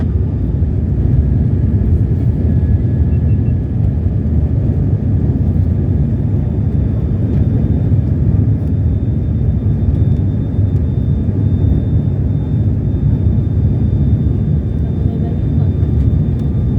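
Steady, loud broadband airplane cabin rumble with a low engine drone during a landing approach to Tuvalu, continuous and unchanging throughout, with faint thin tones above the roar and no clear speech.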